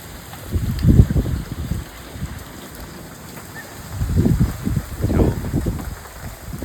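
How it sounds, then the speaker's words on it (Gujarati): Steady rain hisses throughout, broken by a few low, rumbling gusts of wind or buffeting. "આવો ને આવો કન્ટિન્યુ વરસાદ પડે"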